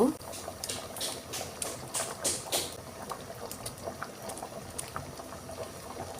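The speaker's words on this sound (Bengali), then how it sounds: "বলক চলে আসছে" A pot of taro with sea fish curry comes to a boil, bubbling and gurgling in quick bursts that are louder at first, then settle into a steady simmer, with quiet talk beneath.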